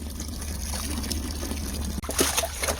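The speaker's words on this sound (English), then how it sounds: "I'm emptying out the old water." Old salt water poured out of a cooler at a boat landing, a continuous trickling, splashing stream that swells into a heavier gush near the end, close by with outdoor ambience beneath.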